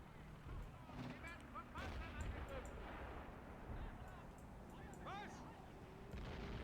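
Artillery booms in the World War II strategy game Men of War: Assault Squad 2, during a Kursk battle mission, with repeated heavy blasts and whistling shells over a constant rumble of battle.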